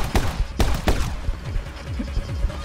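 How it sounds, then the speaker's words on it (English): Gunfire aimed at the player in the action shooter My Friend Pedro, several sharp shots cracking early on, then a steady run of lighter rapid pops over a busy game soundtrack. "who the fuck is shooting me?"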